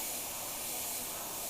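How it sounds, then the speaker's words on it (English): Airbrush spraying red paint onto a cherry painting, a steady, close, even hiss that runs without a break for the whole moment, no talk. "I'm just kind of spraying on the edge of the shadow that I just did"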